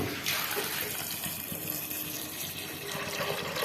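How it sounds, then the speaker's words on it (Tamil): Water is poured from a vessel onto soaked chana dal in a pressure cooker while cooking puran poli. It makes a continuous, splashy, close-up gush that lasts throughout. "இப்போ நம்ம கொஞ்சமாக தண்ணி சேர்த்துக்கலாம்."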